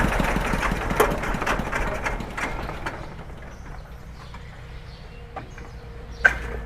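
A used KT140 walk-behind tractor engine chugs with a rapid mechanical rhythm that fades and quiets partway through, with a sharp knock near the end.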